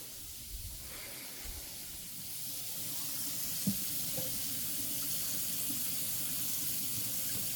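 Warm water runs from a kitchen tap, a faint steady hiss and splash that grows slightly stronger partway through, with a few small clinks, no talking.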